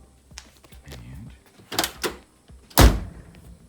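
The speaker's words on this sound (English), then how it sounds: "the fuel door now opens" On a 1982 Mercedes 380SL, the fuel door gives a few small clicks and latch noises. Then it shuts with a sharp, close thud, amid faint handling sounds.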